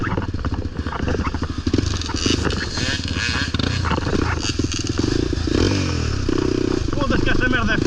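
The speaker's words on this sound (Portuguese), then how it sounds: "já enterrando a minha motinha" An off-road dirt bike revs hard while stuck and digging into deep ground on a woodland trail, with a loud, close, fluctuating engine roar, clattering and scraping of mud, and a voice talking over it.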